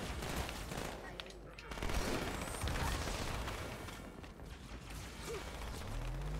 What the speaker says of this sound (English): I didn't realize that the DMR is burst fire in this one.